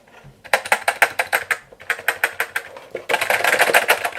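Keys clatter on a full-size C64 computer keyboard as its function keys are pressed in quick, regular taps, close and crisp, ending in a rapid dense burst of typing.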